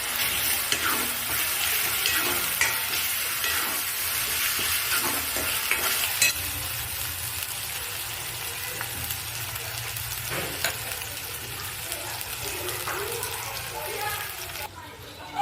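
Onion with ginger-garlic paste frying in oil in a pan while a curry is cooked, a steady close sizzle with stirring scrapes throughout, and someone talking over it.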